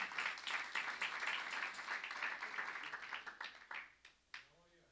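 Church congregation at a prayer and miracles service clapping hands for the Lord, a dense burst of clapping mixed with voices that tapers into a few scattered claps.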